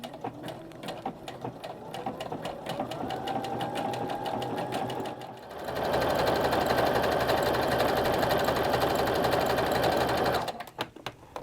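A sewing machine running a zigzag stitch along fabric panels for a simple skirt, a steady mechanical whir that starts moderate, then jumps louder and faster for about five seconds before stopping.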